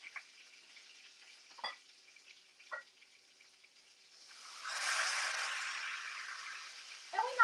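Food sautéing in olive oil in a pan, seasoned with garlic salt, onion salt and pepper, gives a steady soft sizzle that swells midway and holds, with a few brief clinks and knocks of the pan before it.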